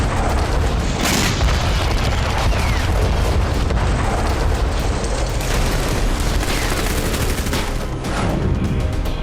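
Russian artillery shelling in Avdiivka, a dense continuous roar of booms and crackling blasts that stays loud throughout, with heavier thuds standing out near the start and again toward the end.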